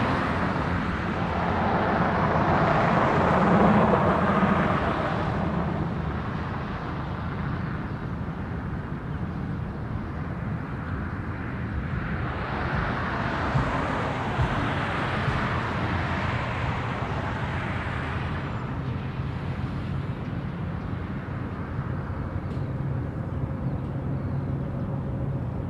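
An airliner, Hawaiian Airlines Flight 10, moves toward the reef runway at Honolulu airport, heard as a steady distant jet roar that swells twice over a constant broadband rumble, with no talking.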